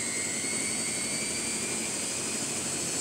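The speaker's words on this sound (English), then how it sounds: "Speed up to 800 rounds per minute. Yes. This intermediate spin." A Miele Novotronic W715 washing machine speeds up in its intermediate spin toward 800 rpm, giving a steady whirring drone with a high tonal whine that swells slightly at the very end.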